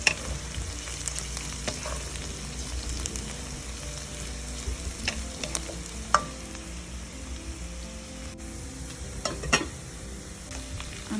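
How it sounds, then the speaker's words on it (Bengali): Onions frying in a pan until light brown give a steady, close sizzle, with occasional sharp clicks of stirring and no talking. "এখানে আমি পেঁয়াজ কাঁচা রাখবো না, একটু হালকা, পুরোপুরি একদম বেশি ব্রাউন না, হালকা ব্রাউন হওয়ার সাথে সাথে আমি চিংড়ি দিয়ে দিব।"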